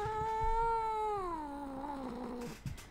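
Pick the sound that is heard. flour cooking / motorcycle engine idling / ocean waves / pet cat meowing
pet cat meowing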